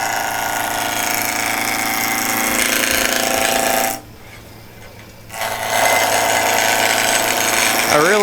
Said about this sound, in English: I'm going to dig out my roughing gouge